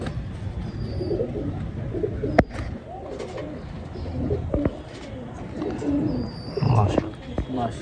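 Pigeons coo softly and keep murmuring in a loft while someone talks over them, with a couple of sharp knocks partway through.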